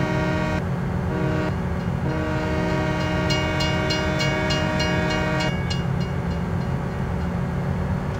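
A train rolls past a railroad crossing in Farming Simulator 2017, its horn blaring in long sustained tones while crossing bells ring rapidly through the middle, all over a continuous rail rumble with no talking.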